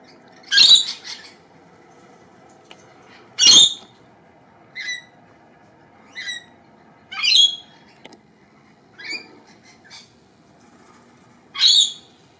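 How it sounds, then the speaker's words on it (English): Kookaburras perched in a non-gum tree, wet from a wash, give short, loud, close squawking calls in separate bursts every second or two, with near-silence between them. "Love Kookaburras."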